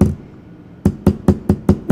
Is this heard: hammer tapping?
yes